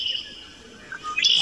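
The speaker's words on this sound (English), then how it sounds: "That's a bird flying by." Short whistled bird calls in a park, a bright chirp at the start and another rising call at the end, fairly loud and close, with nothing else heard.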